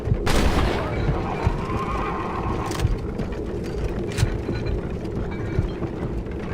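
Horse in the video game Red Dead Redemption letting out a loud whinny near the start, followed by rapid galloping hoofbeats under game ambience with a few thuds.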